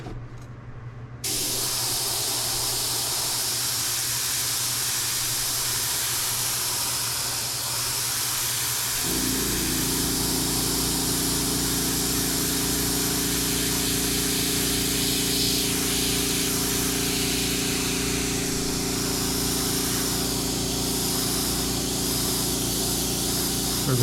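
An airbrush sprays paint in one long, steady hiss with no breaks, loud and close, and a low compressor hum joins partway through and carries on underneath.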